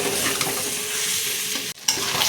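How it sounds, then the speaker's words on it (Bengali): Pointed gourd and fried potato are stir-fried with spices, making a loud, dense sizzle with a constant scraping stir that cuts out for an instant before resuming. "আলু দিয়ে পটল দিয়ে আর একটু কষিয়ে নেব আমি"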